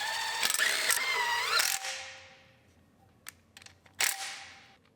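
Mechanical clicks and a ratcheting whir sound while a part is bolted in during a Honda Civic engine installation, with a few sharp metallic taps afterward, close and fairly quiet.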